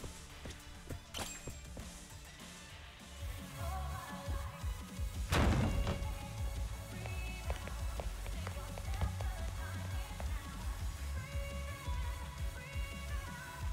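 A single heavy blast goes off outside in the video game Judgment, a broad boom near the middle that rises over a steady bed of game ambience and music.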